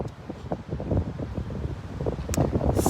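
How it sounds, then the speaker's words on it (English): Steady wind buffeting a microphone outdoors, a dense low rumble with gusty swells and occasional rustling, fairly loud throughout. "it's very windy out here"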